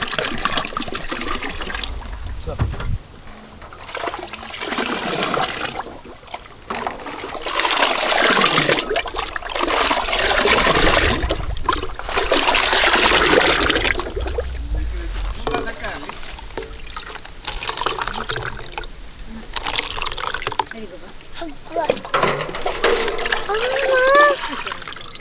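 Clean water is poured and trickled into a homemade juice made with lemon juice and poppy seeds, running in several long streams with pauses between them, while a person talks over parts of it.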